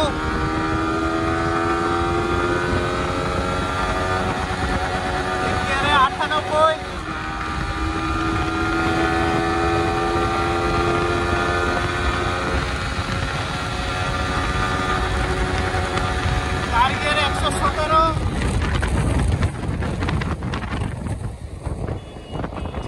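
Yamaha R15 V4 motorcycle accelerating hard through the gears: a loud rising engine whine that climbs steadily in pitch, with brief dips at each gear change, under wind noise and with a voice speaking over it.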